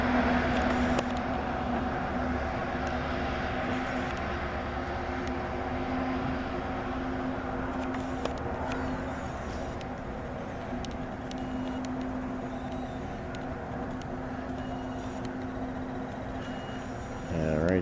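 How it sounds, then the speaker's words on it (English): A Spectrum truck passes late at night near a bridge, producing a loud, steady engine and road rumble with a low hum that holds throughout and swells slightly at the end. "Another late at night Spectrum truck."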